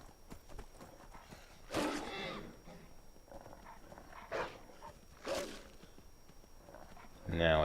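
A horse cantering in Skyrim beats out rhythmic hoofbeats on the ground, close and steady, while a person talks over it in bursts.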